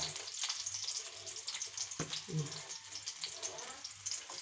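Steady frying sizzle of onions in oil close by, with occasional clatter and faint background sounds, no clear speech.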